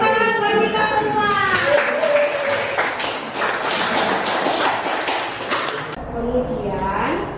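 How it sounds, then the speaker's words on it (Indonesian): Students in a classroom clap their hands in a dense, lively round of applause lasting several seconds, with a voice talking over the start and the end. "Tepuk tangan buat kita semua."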